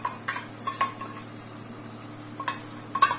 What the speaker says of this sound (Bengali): পোস্ত খুব দামি, ফেলা যাবে না, ওই জন্য চেঁচে চুচে সব দিয়ে দিলাম